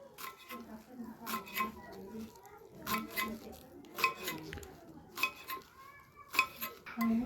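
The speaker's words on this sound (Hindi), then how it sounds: "अब मैं इसे जल्दी जल्दी से बारीक बारीक काट लेता हूँ।" A knife chops gandana leeks finely on a board in a home kitchen, with quick, close, irregular clicks and taps coming in short bursts while a voice talks at times.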